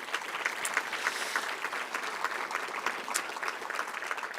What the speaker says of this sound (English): a big round of applause for Mayor Mark Sutcliffe.